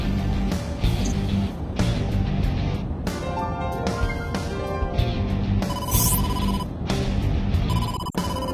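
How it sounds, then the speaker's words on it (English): An incoming phone call rings in the video game AI: The Somnium Files, a repeating electronic ringtone pulsing in short bursts over a steady background of game music. "Date, incoming call from the boss."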